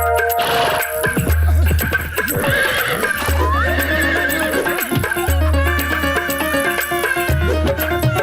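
A cartoon horse in an animated Hindi comedy whinnies loudly several times over a steady clip-clop of trotting hooves, with bright music and sound effects underneath.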